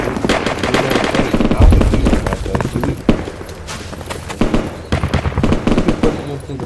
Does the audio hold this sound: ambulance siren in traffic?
no